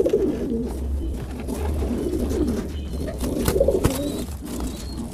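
Meat-breed French pigeons in a loft coo steadily and softly over a continuous low hum, with a few louder coos near the middle of the stretch.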